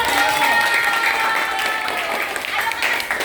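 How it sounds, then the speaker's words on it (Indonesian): Children applaud together during a dengue fever prevention session. The clapping is loud and continuous, with voices and cheering blended over it. "Tepuk tangan dulu."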